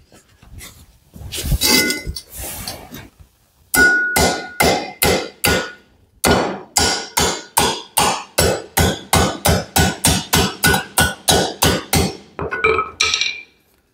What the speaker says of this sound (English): now all I need to do is pound it down